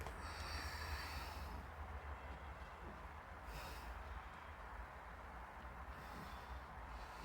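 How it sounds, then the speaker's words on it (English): Slow, deep Ujjayi breathing held in a yoga forward fold twist, a long breathy airflow with faint throaty hiss, near and quiet, in broad waves across the stretch with no talk. "So breathe in Ujjayi."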